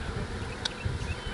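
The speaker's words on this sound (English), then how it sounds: "the bees are all getting ready to make this their new home" Honey bees buzz in a swarm settling into a new home, a continuous close hum with a brief louder pass near the middle.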